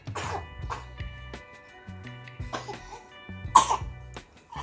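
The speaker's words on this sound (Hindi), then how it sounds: "आ रही है खांसी, आ रही है" A six-month-old baby coughs several times in short, separate bursts, close by, against a quiet background.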